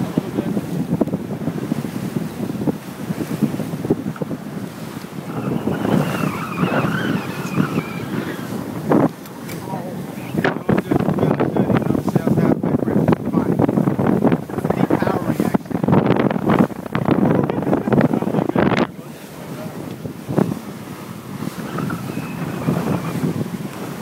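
A sailboat runs in strong wind during a Wednesday night race, with heavy wind buffeting, rushing water and hull noise filling the whole stretch, and voices heard faintly at times.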